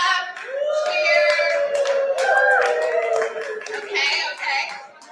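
An audience at a fundraiser evening cheers and claps in a vote, with raised excited voices and whoops rising and falling over scattered applause, moderately close and fading toward the end.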